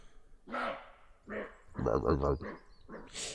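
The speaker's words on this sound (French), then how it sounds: "Ça c'est un chevreuil." Several short, hoarse barks from a roe deer in the Vosges, spaced irregularly with brief gaps, sounding rough and somewhat distant.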